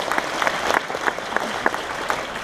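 A fan convention crowd applauds a fan in steady, moderately loud clapping with distinct sharp claps standing out across the whole stretch.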